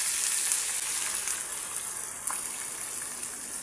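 A steady bubbling hiss of broth boiling in a pot of chop suey with cauliflower, close and continuous, with no voices.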